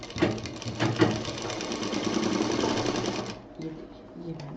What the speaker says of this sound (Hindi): इस पे बहुत एहतियात से मशीन चलाइएगा, इसमें धागा फंस के सुई का धागा कभी कभी टूट भी जाता है।